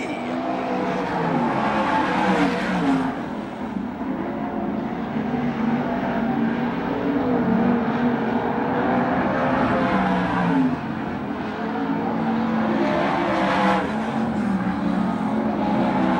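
Several 360 sprint cars roaring around a dirt oval at a USAC/CRA race, engines howling continuously and swelling as the pack passes, with a race announcer talking over the din throughout.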